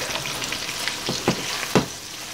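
Hamburger steaks sizzle steadily in a frying pan, a close hiss broken by a few louder scrapes and thumps as the patties are turned.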